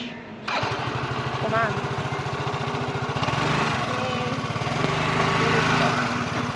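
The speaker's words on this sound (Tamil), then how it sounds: "வண்டி ஆன் பண்ண கற்றுக்கிட்டேன்." A scooter engine fires up and settles into a steady, loud idle with a rapid low putter that carries on throughout, with a voice briefly audible under the running motor.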